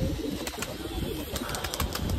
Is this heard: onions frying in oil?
no